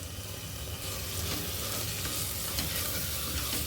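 A masala paste with fresh mint and coriander is stirred for a salna, with a continuous wet frying sizzle and soft repeated scraping close by.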